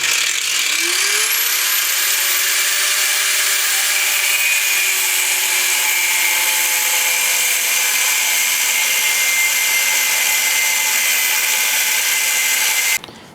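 A power tool spins up with a rising whine and cuts steadily through the metal side stand of a Royal Enfield Scram 411 motorcycle, loud and continuous for about thirteen seconds before stopping abruptly; no talk.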